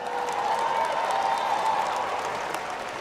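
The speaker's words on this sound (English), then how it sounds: "Let's give the choir another round of applause." Sustained applause for the choir at the 2023 Howard University commencement, a large audience clapping steadily in a broad, slightly distant wash.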